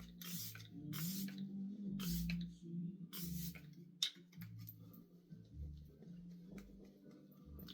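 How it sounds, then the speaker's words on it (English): Fresh Glow Breathable setting spray misted in several short hissing bursts, quiet and close, with brief pauses between puffs and a soft click partway through, over a low background hum. "Setting Spray."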